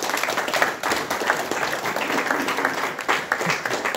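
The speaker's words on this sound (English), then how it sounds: "Yeah, round of applause," Applause at a club, a crowd clapping steadily and fairly loudly for several seconds with a few voices mixed in.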